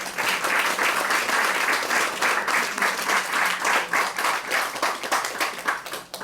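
A crowd at a book talk in Miami gives a strong round of applause, many hands clapping in a full, lively burst that holds steady before thinning slightly at the end.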